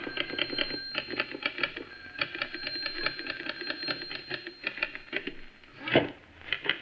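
Typewriter keys clatter in a steady, close rhythm for a radio drama scene of a writer typing a radio script, with a bell-like ding and a carriage return near the end and no voices.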